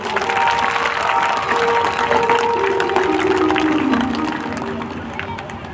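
A large crowd at a Bhagwat Katha religious discourse claps loudly and continuously, a dense roar of hands with cheering and crowd babble mixed in, fading slightly toward the end.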